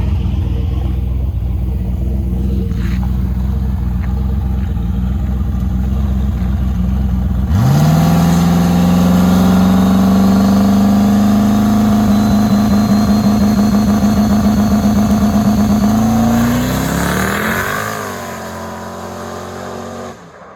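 A Fox-body drag car on slicks launches hard, its engine roaring loud and steady as the revs climb and hold, then flaring as the tires spin before it fades off in the distance.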